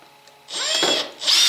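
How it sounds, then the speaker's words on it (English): A power drill drives a bolt into a Suzuki DR650 motorcycle during a battery change, two close, loud whirring bursts with a short pause between them. "So let's use our drill here."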